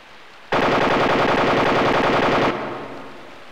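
Police gunfire in the video game Dreamweb: a burst of rapid automatic shots, loud and even, lasting about two seconds, then a fading echo with no speech.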